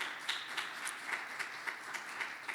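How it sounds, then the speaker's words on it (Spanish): A church congregation claps together in praise, a steady rhythmic pattern of sharp claps about every quarter second, moderately distant and even, with no talking over it. "Dele fuerte, fuerte el aplauso."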